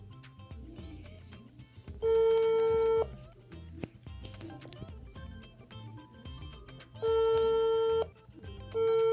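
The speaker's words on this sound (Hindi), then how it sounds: "कॉल लगा रही हूँ, देखें क्या होता है। रिंगिंग पे जा रहा है," An outgoing WhatsApp call rings on a phone, with two clear electronic ring bursts of about a second each, separated by a pause, a third starting at the end, over faint background noise and soft sounds.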